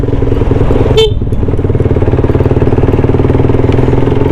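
A Honda CBR150i motorcycle engine runs loud and close with a steady pulsing throb, and a short horn-like tone sounds about one second in.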